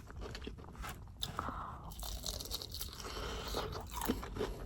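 Someone bites into a crisp hot dog and chews it up close, producing loud crunching and crackling that carries on continuously, with no voices heard.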